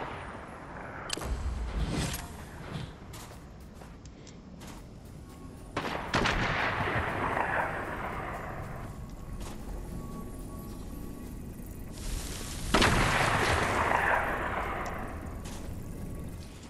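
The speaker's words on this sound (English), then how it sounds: "But I just see that we're getting shot at" Gunfire in the video game Fortnite, with several bursts of shots and booming blasts at about 1, 6 and 13 seconds, each followed by long rumbling echoes over a steady game background.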